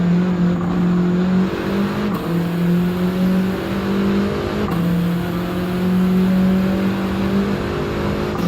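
A Volkswagen Golf GTI races the Nürburgring in Gran Turismo 7 with a steady, loud engine drone whose pitch climbs in stages and drops sharply at each gear change.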